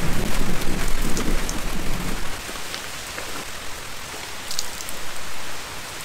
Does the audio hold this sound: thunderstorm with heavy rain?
yes